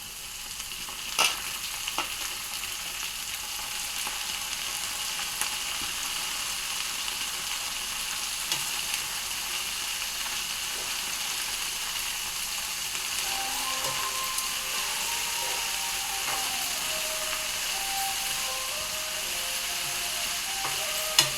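Amaranth leaves frying in a pan give a steady, close hiss and crackle that holds evenly throughout, with occasional soft clicks of stirring.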